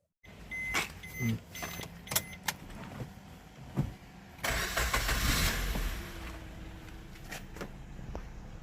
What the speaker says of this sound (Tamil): இன்ஜின் ஸ்டார்ட் பண்ணி காமிக்கிறேன்